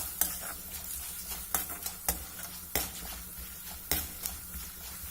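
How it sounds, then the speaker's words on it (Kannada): Chana dal frying in oil with turmeric and asafoetida makes a soft, steady sizzle, broken by several sharp scrapes and taps of a spoon against the pan. "ಕಡಲೆಬೇಳೆ ಚೆನ್ನಾಗಿ ಫ್ರೈ ಆಗಲಿ ಇದರಲ್ಲಿ"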